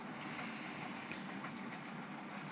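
A model freight train of wagons runs around a home railway layout, producing a faint, steady rolling rattle that continues evenly without any voices.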